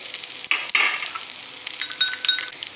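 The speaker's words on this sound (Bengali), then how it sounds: "ভালো করে আমি মিশ্রণটি চামচের দ্বারা পেস্ট করে নেব" A spoon works a sauce mixture into a paste in a bowl for chicken chow mein, giving soft scraping and light clinks with a brief knock near the start, close and fairly quiet with no talking.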